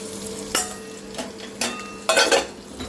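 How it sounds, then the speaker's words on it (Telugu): Potatoes fry in hot oil for a potato curry, a soft continuous sizzle broken by several sharp scrapes and clinks of a utensil stirring the pan. "ఆలు చాలాసేపు ఇట్లా నూనెలో ఫ్రై అవుతూ ఉంటే టేస్ట్ బాగుంటుంది."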